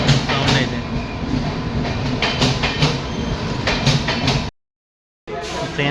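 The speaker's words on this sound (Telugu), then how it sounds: "ట్రైన్ అయితే వస్తుంది, మేము ఎక్కేది." A train pulls into a railway station at Warangal. A loud, steady rumble of rolling wagons with rhythmic clacking goes on throughout, then breaks off briefly.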